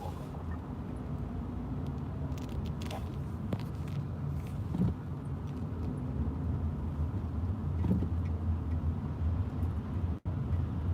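Daytime city traffic rumbles at a distance, a low, continuous wash of passing vehicle noise with occasional faint knocks and thuds and no clear single vehicle standing out.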